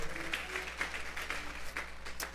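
A church congregation clapping together during a service, a short burst of moderate applause with separate claps standing out and faint talk beneath.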